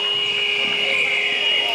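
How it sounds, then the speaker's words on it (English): Sustained electronic buzzer tone at a schools league netball match, a steady loud hold lasting the whole moment over crowd and court ambience. "There goes the buzzer."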